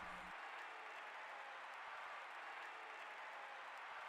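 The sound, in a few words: crowd cheering in the Coliseum, from the video game Dark Cloud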